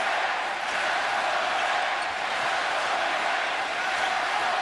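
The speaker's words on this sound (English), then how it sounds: "I think the crowd is awakened." A basketball arena crowd during a 2003 NBA Eastern Conference Semifinals game roars steadily in a broad, continuous wash of cheering, with no breaks across the whole stretch.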